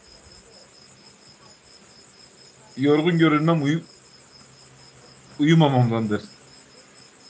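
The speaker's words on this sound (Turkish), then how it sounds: "Çekirgeler, evet. Çekirge mi bunlar?" Crickets or grasshoppers chirp outdoors in a steady, thin high-pitched trill running throughout, while someone speaks twice briefly over it.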